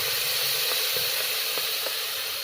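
Tomatoes dropped into a hot pan while cooking bisi bele bath give a steady, even sizzle, with a few faint soft knocks from pieces landing or being stirred. No one speaks.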